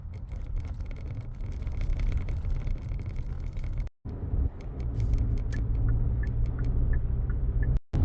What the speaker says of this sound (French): Je vais prendre ma voiture et tailler la route.